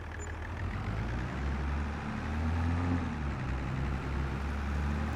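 Large tractor engine in Farming Simulator 22 running at a steady low rumble, a deep droning idle that swells slightly in the middle and holds close and continuous throughout.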